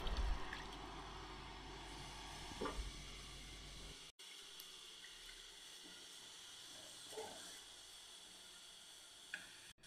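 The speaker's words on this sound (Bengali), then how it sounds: "এবার জল দিয়ে দেব।" Water poured into hot masala gravy with yogurt, cooked for a stuffed pointed-gourd dorma, gives off a steady, soft sizzle and hiss that continues with only slight swells.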